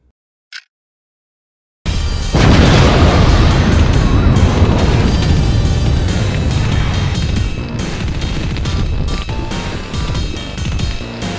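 A bomb hidden inside a large gift box blows up, a sudden loud blast followed by a long, dense roaring rumble that fills the space for several seconds after a brief quiet lead-in.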